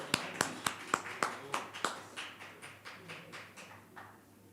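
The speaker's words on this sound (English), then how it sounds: "Give him a round of applause." A small audience claps for a presenter at a VR meetup, a sparse run of individual claps that slows and fades away over a few seconds.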